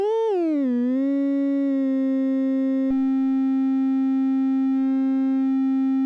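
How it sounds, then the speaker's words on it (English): A Bullfrog XL synthesizer VCO plays a sine-wave tone. Its pitch wavers and dips at the start, then holds a steady, sustained note, with one brief click partway through. "The oscillator sine wave"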